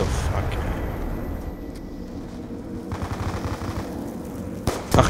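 Automatic gunfire in Black Ops 2 Zombies on the Town map, rapid rattling shots running steadily under game noise, ending in a louder burst.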